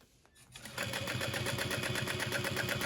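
A sewing machine stitches a bag strap at a long stitch length of 5, a steady fast rhythmic whir starting up after a brief pause and running on evenly, close and moderately loud.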